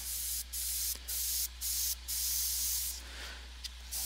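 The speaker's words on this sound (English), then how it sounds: "Just see what's possible with the airbrush here." Badger airbrush spraying paint onto a half-scale species bust, producing close bursts of hiss that start and stop in a regular rhythm over a low steady compressor hum, with no talk.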